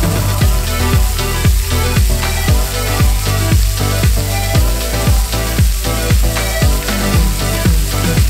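Chicken sizzles and fries steadily in a hot pan for a strawberry chicken salad, a loud continuous crackle with a faint rhythmic stirring or scraping throughout.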